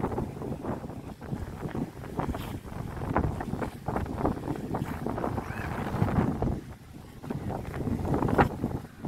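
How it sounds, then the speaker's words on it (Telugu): Strong gusting wind beside the Godavari river near Yanam buffets the microphone in a continuous low rumble that swells and eases in irregular surges, close and fairly loud throughout. "ఇక్కడ విండ్ ఫ్లో చాలా ఎక్కువగా ఉంది."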